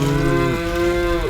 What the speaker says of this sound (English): cattle are all you can see